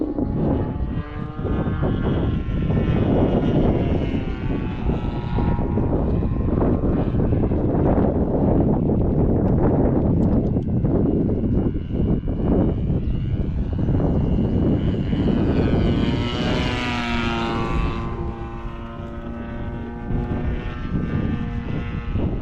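An RC plane flies overhead doing fast aileron rolls, its propeller engine droning loud and steady with pitch sweeping up and down as it passes, wind buffeting the microphone.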